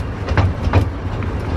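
North Bay Railway train running near a beach, a loud, steady rumble with a couple of rhythmic wheel clunks on the track, no talk.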